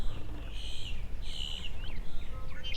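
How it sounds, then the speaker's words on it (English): Several birds call and chirp repeatedly beside a saltwater channel, their bright whistled notes fairly close over a steady low background rumble, with no talking. "Y'all hear those bird sounds?"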